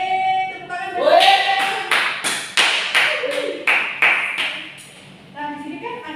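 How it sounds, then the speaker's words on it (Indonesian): A short round of hand clapping in a classroom with a teacher and children, a string of sharp close claps under a bright chiming tone, with voices at the start and end. "Yeay, tepuk tangan."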